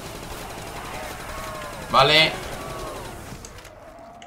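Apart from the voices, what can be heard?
gunfire in Call of Duty: World at War zombies, video game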